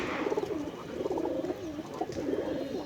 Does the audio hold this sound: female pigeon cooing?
yes